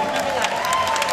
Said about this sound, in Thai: ขอเสียงปรบมือหน่อยได้ไหมครับ